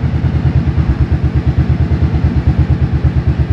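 A 1983 Yamaha Virago 750 Midnight Special motorcycle engine runs cold at idle, a steady loud low thumping pulse repeating evenly and close by, with no talk.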